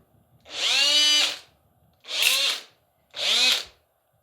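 A Makita cordless drill with worn carbon brushes whirs in three short bursts, each spinning up and winding down with a rough, uneven whine, close by.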